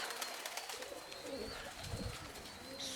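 A tumbler pigeon coos softly a few times against a faint, hissy outdoor background.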